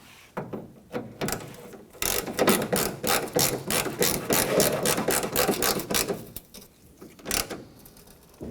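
Ratchet wrench clicking as it tightens a latch bolt on the tailgate of a 1997-2003 Ford F-150, a close, loud run of rapid ratcheting strokes in bursts, with pauses near the start and a few clicks at the end.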